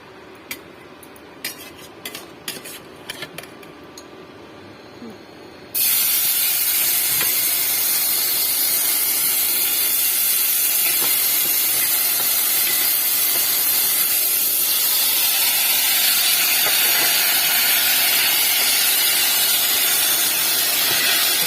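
A red lentil mixture goes into a pan with a little oil and sizzles in a loud, continuous hiss once it lands. Light clinks and rattles come before, and the steady frying noise carries on under stirring.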